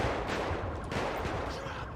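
Sustained gunfire in GTA 5 with the LSPDFR police mod, a dense continuous rattle of shots blending into a steady roar with no clear gaps, fairly loud and close, without speech.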